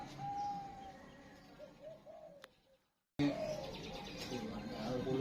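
A zebra dove, or perkutut, coos in a soft series of rising, rounded notes amid faint background noise, then a louder burst of outdoor noise follows after a brief dropout.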